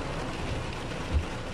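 Heavy rain pours down while driving on a city street in Dąbrowa Górnicza, a dense, steady hiss of downpour with a brief low thump near the middle, no voices.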